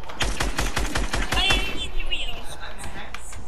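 Video game gunfire rattles out in a fast, loud burst of rapid shots for about a second and a half, then gives way to quieter background game sound.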